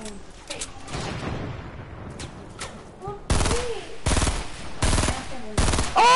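Video game gunfire: rapid automatic bursts, with loud sustained rattling volleys in the second half over a softer background of distant shots and game effects.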